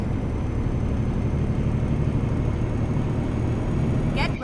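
A DAF XG truck engine drones steadily while driving under load, a continuous low rumble heard from inside the cab with no breaks, ending in a brief higher swish.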